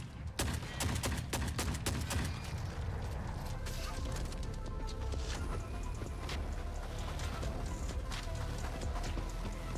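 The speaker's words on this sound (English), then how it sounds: "it's absurd how strong shotguns are" Heavy shotgun blasts and chaotic combat fire in the shooter game Forever Winter, with a dense cluster of sharp shots early, then steady rumbling battle noise throughout, fairly loud and continuous.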